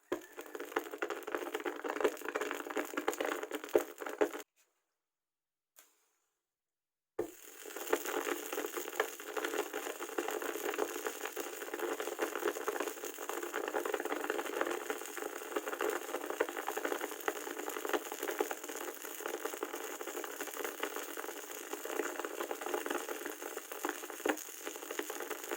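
Calcium carbide stone fizzing and bubbling in water, a steady dense hiss of foaming bubbles that drops out briefly, then returns and continues evenly at close range.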